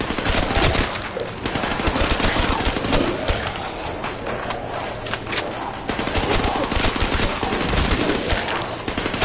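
Machine gun fire in Call of Duty Black Ops 3 zombies mode, dense rapid bursts running steadily throughout, loud and close, with game noise mixed in.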